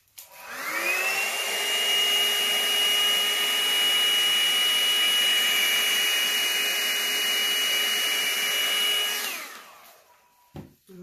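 A strong, steady stream of air from a blower or dryer plays over poured acrylic paint on a tile for about eight seconds, a loud continuous whoosh with a faint whine, then cuts off.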